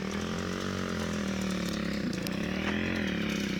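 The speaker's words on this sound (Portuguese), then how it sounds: "Que é aquilo ali, vindo com a moto?" A motorcycle engine drones loudly and steadily nearby, its buzzing, chainsaw-like tone holding close for the whole stretch with only slight changes in pitch.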